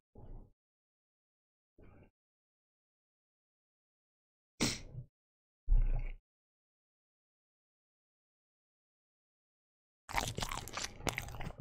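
Crunchy bites and chewing on a McDonald's Quarter Pounder burger with real beef, heard in a few separate short close bursts with silence between them and a denser stretch of chewing at the end.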